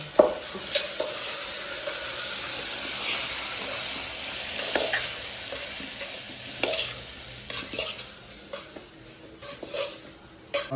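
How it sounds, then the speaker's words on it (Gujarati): Chili bhajiya fritters in gram flour batter deep fry in hot oil, making a continuous bubbling hiss with scattered clinks and stirring scrapes from a utensil, close and steady, with no talk. "ભજીયા તળાવ છે અમારે તો મરચાના મરચાનો ભજીયો ફ્રાય થાય છે"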